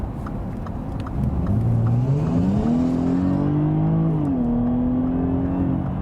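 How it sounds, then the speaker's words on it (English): A car engine revs up steadily while overtaking, its pitch climbing and holding as it accelerates, loud and close, with no voices over it. "you can also hear how the engine works"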